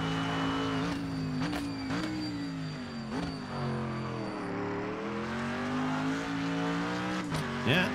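GT race car engine heard from an external camera in the racing game Automobilista 2, droning loudly with rising and falling revs through gear changes and a brief sharp squeal near the end.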